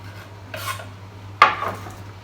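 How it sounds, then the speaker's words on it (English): A knife slices spring onions on a board, with two separate scraping cuts, the second sharper and louder, over a low steady hum. "I like to chop the white parts and the green parts as well"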